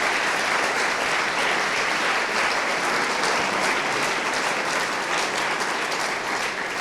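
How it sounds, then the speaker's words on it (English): Steady, dense applause from a large audience at a hackathon closing ceremony, loud and unbroken for several seconds with no voices on top. "please give a round of applause to the team Dodge"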